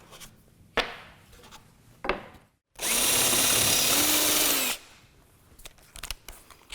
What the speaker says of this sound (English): Okay, now I can take this out and start setting up to drill the holes.